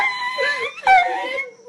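A man imitates an injured dog, making close, whiny whimpering and yelping sounds in a couple of strained, wavering bursts.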